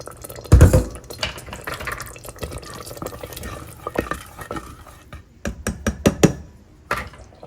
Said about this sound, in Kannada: ಸ್ವಲ್ಪ ನೀರು ಹಾಕ್ತೆ.